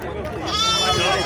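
Goats bleating amid a busy goat and sheep livestock fair in Sumé, Paraíba, a wavering bleat rising over crowd chatter and talk nearby.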